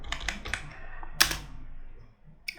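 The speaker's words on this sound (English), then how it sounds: "We are going to type Facebook" Quick bursts of typing on a computer keyboard while designing a flyer in Photoshop, with a short run of close key clicks, a pause, then a single sharper keystroke and another few taps near the end.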